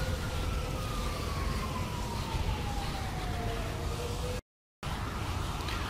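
A distant fire truck siren in GTA V holds a long, slowly falling wail over a constant engine rumble, cut briefly by a moment of silence near the end.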